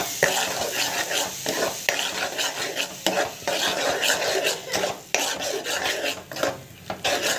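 Tomato masala sautéing in a pan, with a loud sizzle broken by repeated scraping and clinking strokes of a spoon against the metal as it is stirred, close up and without talk.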